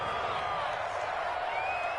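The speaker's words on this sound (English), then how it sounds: "How about some applause for the defense there?" Stadium crowd in a PS4 football game cheering the defense after a forced fourth down, a continuous wash of applause and crowd roar at moderate level throughout.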